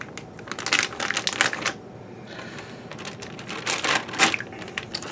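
Pieces of jerky meat are pulled out one by one and slid into a Ziploc marinade bag, giving close crinkly plastic rustles in two bursts separated by a brief quieter pause.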